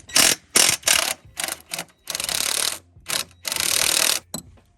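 A ratchet with an 18mm socket works a bolt loose on a BMW X7, sounding as a series of close, sharp clicking bursts, some short and some longer runs, separated by brief silences.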